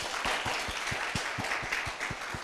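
A crowd applauds for an entrepreneur and teacher at a youth holiday event in Koumassi, a steady, dense wash of clapping with a few sharp near claps punctuating it, no voices.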